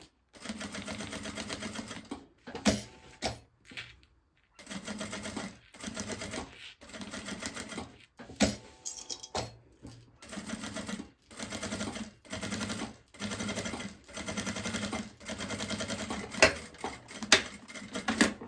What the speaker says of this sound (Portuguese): Faz uma costurinha em toda a volta.